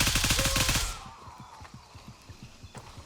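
Automatic rifle fire in the tactical shooter Gray Zone Warfare, a loud close burst of rapid shots for about a second, then fainter distant rhythmic gunfire and thumps continuing behind it.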